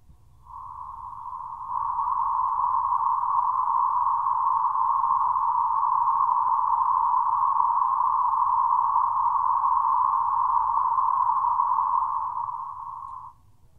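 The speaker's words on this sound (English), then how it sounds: "Let us connect the white noise to a third octave filter and listen." White noise from a synthesizer is passed through a third-octave band filter, leaving a steady, narrow hiss-like tone that fades in, holds evenly for about ten seconds and fades out, heard alone.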